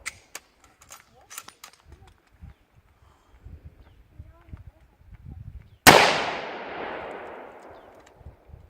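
In the woods, a single sharp, loud gunshot cracks out near the end and rings off in a long fading echo, after scattered quieter knocks and rustling.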